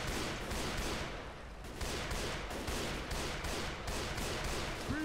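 Gunfire in the video game Left 4 Dead 2 rattles on in rapid bursts, a thick barrage of repeated shots with a brief lull partway before the firing picks back up, fairly loud and continuous.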